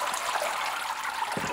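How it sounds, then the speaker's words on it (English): Water draining through a papermaking frame from paper pulp, a soft continuous trickling and splashing, close and steady, with a faint low thump near the end. "So now after the water's drained out, we can take the frame off."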